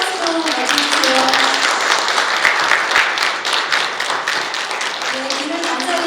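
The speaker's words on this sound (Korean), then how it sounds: "큰 박수로 맞아주세요." A crowded hall at a university student council inauguration breaks into loud, continuous clapping from many hands, steady and close. A few voices rise briefly beneath it at the start and the end.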